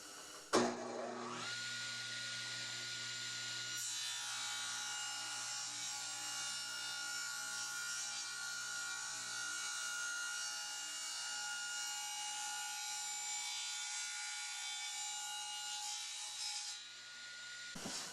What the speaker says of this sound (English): even an underpowered saw can cut through quite a bit of